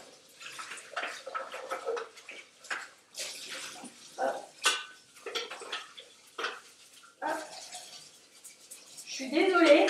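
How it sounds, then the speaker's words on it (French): A bowl being washed under running water at a kitchen sink, with splashing and a flowing tap that builds louder near the end, interrupted by intermittent talk throughout. "il faut que je lave mon bol parce qu'il a dû servir et que il n'a pas été lavé"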